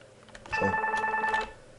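A mobile phone rings with a short, electronic ringtone of bright, steady tones lasting about a second, heard nearby during a Minecraft gaming session.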